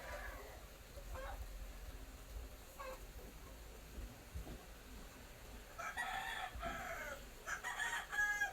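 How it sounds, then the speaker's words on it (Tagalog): A rooster crows faintly in the distance, its calls rising over a steady background hiss. "Saba kay manok."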